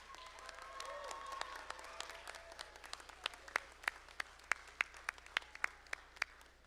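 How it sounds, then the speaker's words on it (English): A commencement audience applauds, a moderate crowd clapping that thins out toward the end into a few distinct, louder individual claps, heard from a distance in a large space. "Let's give all these folks a round of applause."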